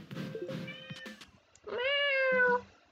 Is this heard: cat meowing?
yes